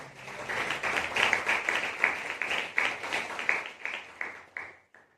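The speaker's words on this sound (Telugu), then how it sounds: "చప్పట్లు కూడా దేవుని స్తుతిస్తారు." A congregation claps in steady rhythm during a Sunday church service, with dense, even hand claps in a continuous run that thin out and stop near the end.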